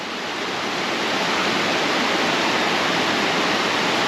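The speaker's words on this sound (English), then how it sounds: "we're at the lower Virginia Falls" Lower Virginia Falls in Glacier National Park, a multi-level waterfall in full flow, roars as a loud, steady, dense rush of falling water close by, unbroken throughout.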